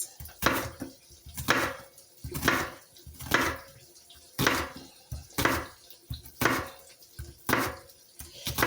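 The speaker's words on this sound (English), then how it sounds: "I'm going to cut my onion like in half." A knife slicing straight down through an onion on a cutting board, about ten evenly spaced crisp cuts, each a short crunchy swish ending in a soft knock on the board, close up with no talking.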